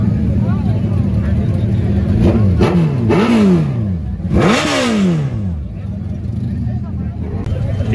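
A sport motorcycle engine, sounding like a Yamaha R1, revs in bursts at a bike and car show, its pitch sweeping up and dropping back several times, with crowd chatter running underneath.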